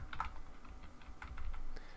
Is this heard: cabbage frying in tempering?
no